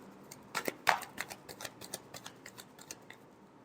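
Tarot cards being shuffled by hand, a quick series of soft riffling snaps and taps at close range, with one sharper slap near the start and no talk.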